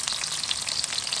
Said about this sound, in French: Bien noyé dans l'huile chaud.